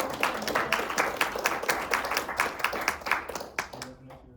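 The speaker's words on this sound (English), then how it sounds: "we give a round of applause to Zin." Audience applause at a tech presentation: a room of people clapping in a brisk, uneven patter that stays lively for about four seconds, then thins out and fades.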